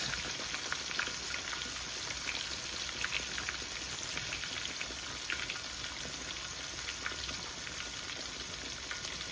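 Chicken pieces frying in hot oil for Jamaican-style fried chicken, a dense, steady sizzle with crackling pops running throughout, close and continuous with no talking.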